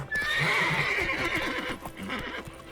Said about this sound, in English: Luckily, Joe can always count on his horse Roach to help him in his travels.